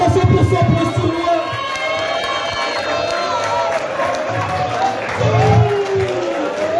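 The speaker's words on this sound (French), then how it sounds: "Je pense qu'on peut l'applaudir" A sports tournament podium crowd roars for the tournament president, loud sustained applause mixed with cheering, whoops and high shouts, some voices calling out over the din throughout.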